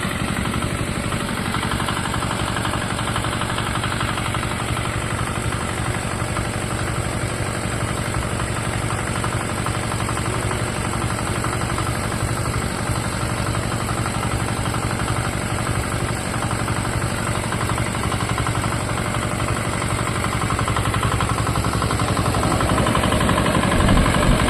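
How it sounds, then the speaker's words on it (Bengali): A paddy threshing machine engine runs continuously, a steady mid-pitched droning hum with constant vibration, close and loud, unchanging in rhythm and with no talking. "তো এই যে মেশিনটা চালু হয়ে যাচ্ছে"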